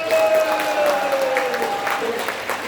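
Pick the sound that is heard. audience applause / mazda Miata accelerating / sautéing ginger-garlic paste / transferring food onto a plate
audience applause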